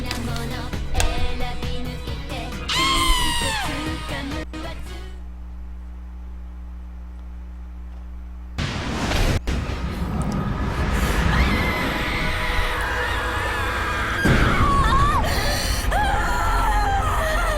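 A scream from the video game Metal Gear Solid 4 finale, a short loud cry among game sound effects and music, broken by a quiet stretch before busy in-game noise returns.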